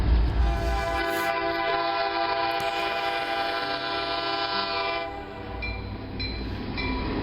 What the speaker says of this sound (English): Here's the Pennsylvania Railroad E8s coming through on the Port Reading Secondary.